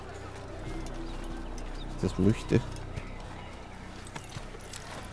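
A horse in the Assassin's Creed video game clip-clops with a brief burst of hoof beats and snorting under a man's speech, over a low steady game background.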